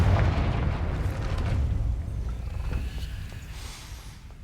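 A Confringo fire spell blasts in the Hogwarts Legacy video game, a loud booming explosion that hits at once and rumbles away over several seconds with no voices.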